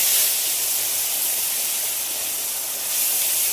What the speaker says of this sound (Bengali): তেলের পরে দিয়ে দিচ্ছি গোটা গরম মশলা, এলাচ, লবঙ্গ, দারচিনি